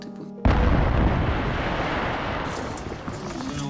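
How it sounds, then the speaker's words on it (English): A wartime explosion in a residential yard bursts in suddenly after a quiet moment, a loud, broad boom that rolls on as a sustained roar and slowly fades with rumbling debris. "There was an explosion right in the yard."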